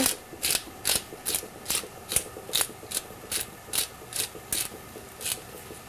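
A pepper mill grinds black pepper over sautéing shallots in a home kitchen: a close, steady run of about a dozen crisp ratcheting crunches, each twist a short gritty burst in an even rhythm, with no voices.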